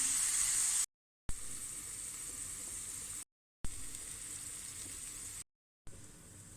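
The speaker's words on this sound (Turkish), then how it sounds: "Biraz soteliyorum." Onion and tomato paste sizzle steadily in hot oil, a constant frying hiss close up, cut by a few brief silent gaps.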